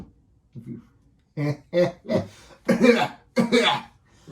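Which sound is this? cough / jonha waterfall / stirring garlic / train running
cough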